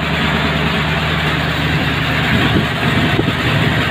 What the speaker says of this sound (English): Idling nicely, I think, just for a very rough tune.